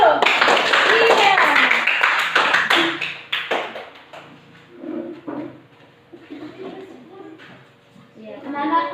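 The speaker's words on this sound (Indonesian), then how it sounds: "Tepuk tangan dulu." Schoolchildren in a classroom clap their hands together, a burst of sharp claps at the start that gives way to scattered taps and talking voices.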